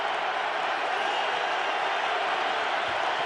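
Broad, steady roar of a huge stadium crowd at Super Bowl 56, a continuous wash of distant voices with no breaks, held at an even level throughout.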